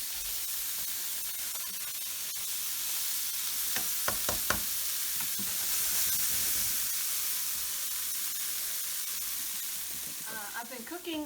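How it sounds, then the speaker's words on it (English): Pumpkin seeds frying in a pan over medium heat give a steady, close crackling sizzle, with a few sharper pops midway and some clinking from a stirring utensil near the end. "I've been cooking the pumpkin seeds for about, 5 or 6 minutes on medium heat."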